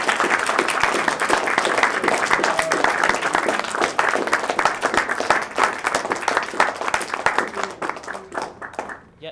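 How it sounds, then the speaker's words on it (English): Sustained, fairly loud applause from a students' council audience, dense clapping throughout that thins and fades in the last second. "so a round of applause for him."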